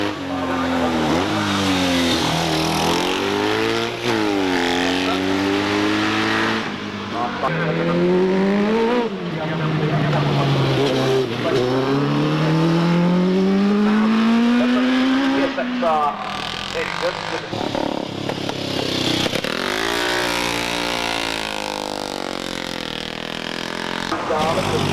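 A 1000cc BMW races up the Prescott hillclimb, its engine revving hard through repeated rising and falling gear changes, loud and close, with a voice talking over it throughout.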